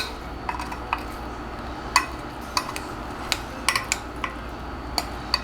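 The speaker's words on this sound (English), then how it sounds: "I'm just going to dump it all right into my bowl here" Scalloped potatoes and ham dumped from a pan into a bowl: scattered clinks and scrapes of metal against dishware over a steady kitchen hum, close and moderately loud.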